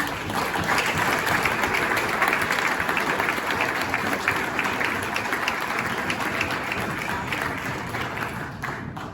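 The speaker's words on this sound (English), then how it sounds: "So Chastity, would you please give a big round of applause for Chastity Brownlee?" A room full of people at a chamber of commerce awards event claps in loud, sustained applause that holds steady and tapers slightly at the end, with a few voices mixed in.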